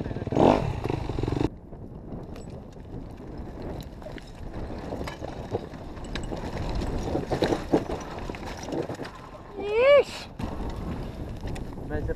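A hard enduro motorcycle engine idles and rumbles steadily amid wind buffeting on the microphone, with a brief rising whine near the end.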